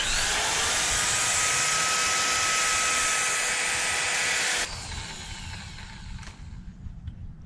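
Power sanding of a metal 2JZ VVTI cylinder head valve area with fine sandpaper up to 1,500 grit, a steady loud whirring drone that abruptly drops to a quieter rough hiss near the end.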